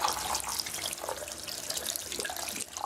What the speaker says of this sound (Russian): И теперь нам нужно просто промыть ее под проточной водой.